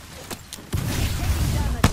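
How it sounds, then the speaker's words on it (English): Fuse's knuckle cluster launcher fires in Apex Legends, a deep booming blast with rumbling low-end followed by a sharp crack, preceded by quieter game sounds. "Stand back, knuckle cluster firing."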